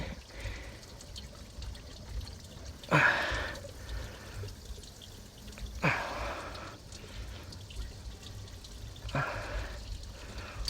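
Coolant pouring and splashing in bursts from a GM car engine near the water pump, with a trickling stream between louder gushes, close by.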